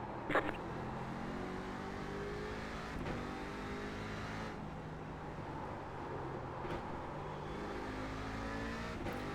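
A racing car engine in the iRacing simulator droning steadily at high revs, with rising and falling pitch sweeps as it shifts gears, continuous and fairly distant.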